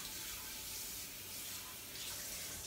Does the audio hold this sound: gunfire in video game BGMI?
no